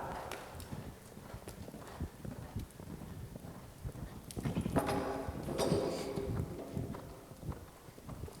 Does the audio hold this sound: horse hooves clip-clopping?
yes